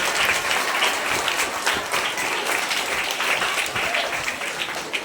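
A school audience claps steadily for a student's drawing at a headmaster's farewell function, a dense, even burst of applause that runs unbroken from start to finish at moderate loudness.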